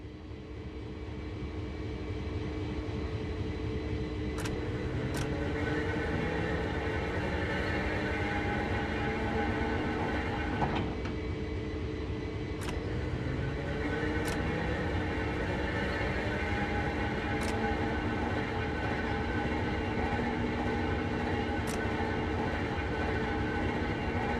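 A locomotive turns slowly on a rotating turntable in a train simulation game, giving a steady, loud mechanical rumble and hum with a few sharp clicks scattered through it.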